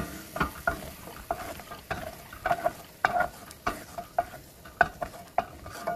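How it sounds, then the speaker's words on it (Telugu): Peanuts roasting in a pan and stirred constantly, a dry rattle of nuts and rhythmic scraping of the spoon against the pan, with sharp regular clinks over a faint sizzle. "పల్లీలు, ఇలా కొంచెం రెడ్ కలర్ వచ్చేదాకా గోలియాలి"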